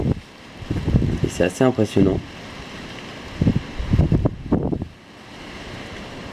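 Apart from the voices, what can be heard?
strong storm wind gusts and rain, Storm Ciara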